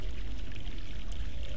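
Water pours steadily into a channel in the adventure game The Longest Journey, a continuous close rushing splash with no talk over it.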